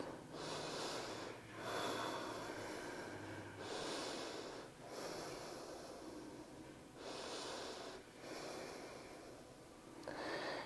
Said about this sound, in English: Find your breath.